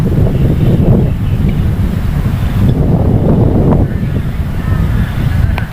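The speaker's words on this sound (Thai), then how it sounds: "โอ้ยน้ำเยอะจริงๆเพื่อนดูคลื่นดิ นี่ในนานะไม่ใช่ในทะเลนะเพื่อน" Strong wind gusting over a flooded rice paddy under rain clouds in Na Di, Surin, with waves lapping across the water, a loud continuous roar and heavy microphone buffeting throughout.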